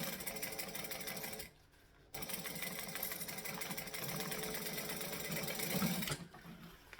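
A sewing machine stitches fabric in a steady, continuous mechanical whir at close range, pausing briefly for about half a second before resuming and running on, then easing off near the end.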